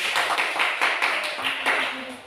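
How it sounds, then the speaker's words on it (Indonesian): Children in a classroom clapping their hands in a short, brisk round of applause, fairly close and continuous for a couple of seconds. "Tepuk tangan dulu."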